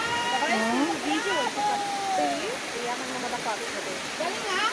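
Waterfall at Adonis Baths in Paphos, Cyprus, a loud constant rushing roar of falling water with voices talking and exclaiming over it.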